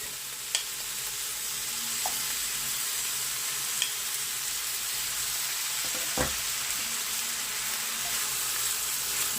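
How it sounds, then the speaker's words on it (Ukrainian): Sliced mushrooms frying in a pan with butter and onion, a steady close crackling sizzle with a few brief stirring clicks and scrapes, no voices. "грибочки почали просмажуватися"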